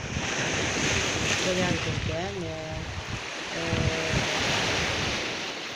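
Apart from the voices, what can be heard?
sea waves and wind at the shore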